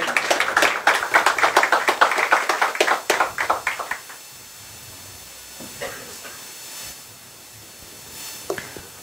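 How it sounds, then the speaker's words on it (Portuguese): Applause from an audience at a church talk, loud dense clapping for about four seconds that then dies away into quiet room noise with a few faint stray sounds. "Uma salva de palmas para o nosso palestrante."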